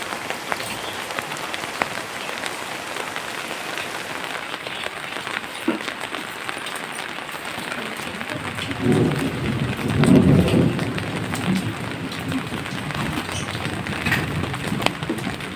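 Steady rain hisses outdoors during a storm, with a low rumble of thunder swelling about midway before the downpour carries on alone.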